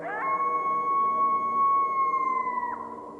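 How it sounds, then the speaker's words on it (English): A single long, sustained coyote howl from a forest, clear and steady, bending slightly at the end before fading, over a quiet background. "a harsh sound rose from deep in the forest, a coyote's howl."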